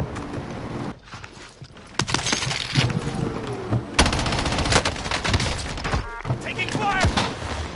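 Rapid gunfire in Call of Duty Warzone, sharp bursts of automatic shots and clattering impacts, loud and close, with a player's voice talking in between.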